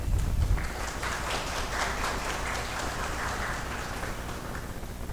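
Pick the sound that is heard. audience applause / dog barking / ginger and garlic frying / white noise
audience applause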